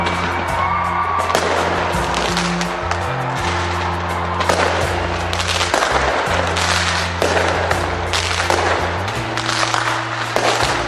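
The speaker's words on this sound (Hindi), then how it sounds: "काउंटडाउन के बाद आतिशबाजी होते ही नए साल का जोरदार तरीके से स्वागत किया गया।" New Year fireworks over Auckland, New Zealand, fill the air with a dense, continuous barrage of crackling bursts and pops, loud and sustained, over a steady low hum.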